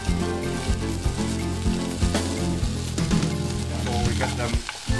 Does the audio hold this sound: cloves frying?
yes